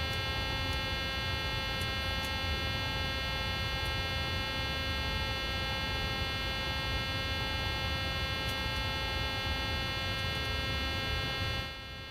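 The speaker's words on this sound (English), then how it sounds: "Sorry, I'll get rid of that beep for a moment." A Boeing 737-800 cockpit warning in Microsoft Flight Simulator sounds as a continuous steady electronic tone with a buzzing hum, unbroken for about twelve seconds before cutting off at the very end.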